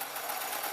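A sewing machine stitches white elastic onto a fabric mop hat, a steady close whirring buzz of rapid needle strokes that runs continuously with no pauses or voices.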